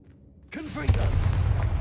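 The Confringo fire spell in the video game Hogwarts Legacy: a sudden whooshing blast erupts and sustains as a dense, roaring rush, just after a voice shouts the incantation.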